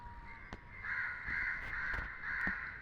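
A crow caws repeatedly in the horror video game Granny, several loud harsh calls close together over a faint background.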